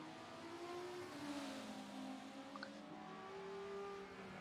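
Race car engine in a Road America racing video game event, a steady moderate drone with shifting pitch as the car runs through the end of a lap, fairly quiet and alone.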